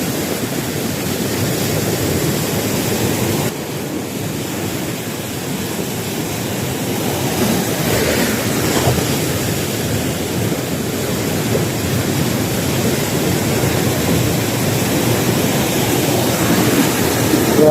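Strong ocean waves crash and surge at a fishing spot, making a loud, steady roar of surf and wind that never lets up.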